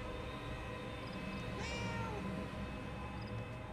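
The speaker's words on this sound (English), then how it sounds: "Maybe if I just like meow at this door here?" A cat meows once in the video game Murdered: Soul Suspect, a short, clear mid-distance cry rising and falling over steady background game ambience, with no talking.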